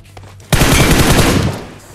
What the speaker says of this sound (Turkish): Biri sıkıyor ama.